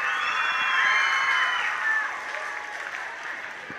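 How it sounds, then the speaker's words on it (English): An audience at an elementary school music festival applauds third-grade performers with a sustained wash of clapping and some cheers and children's shouts, loud at first and then gradually fading. "Nice round of applause to these third graders."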